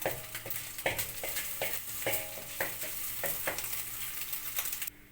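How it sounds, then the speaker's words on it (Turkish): Lamb fat melting and sizzling in a pan for lamb saç kavurma, a steady crackling hiss broken by repeated scraping stirs, close and fairly loud with no talk. "Altını açtım bu erisin. Yağı çıkana kadar eriteceğim."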